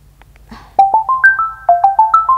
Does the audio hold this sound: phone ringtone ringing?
yes